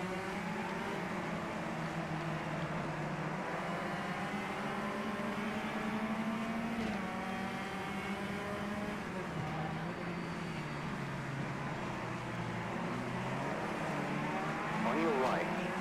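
Race car engines whine and shift pitch continuously in a pack of cars running three wide in the Automobilista 2 racing game, a sustained layered roar with voices talking over it.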